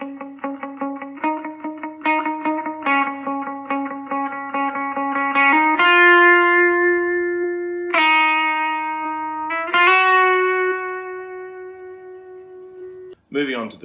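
A lead electric guitar plays the last two bars of a song's verse, with repeated picked notes, a hammer-on and long sustained tones wet with effects, clear and close.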